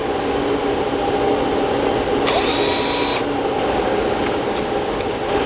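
A power tool spins out the main cap studs from a Dart 2JZ engine block: one loud, high whirring burst of about a second over a steady background hum.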